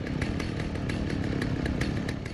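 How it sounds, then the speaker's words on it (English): A chainsaw revs loudly and steadily in the Alan Wake game's DLC The Signal, its buzzing drone continuous and close, with a faint pulsing rhythm running through it. "There's a chainsaw."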